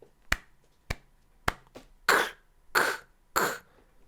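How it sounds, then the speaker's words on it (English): Drum-machine samples play one at a time with clear gaps: four short, sharp snare hits, then three longer, noisier clap sounds. "Those are claps and snares."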